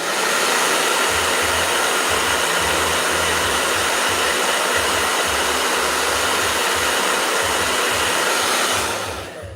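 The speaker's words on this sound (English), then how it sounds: "Blow dryer." A blow dryer runs continuously and loud at close range, a steady whirring roar with a low pulsing hum, cutting off at the very end.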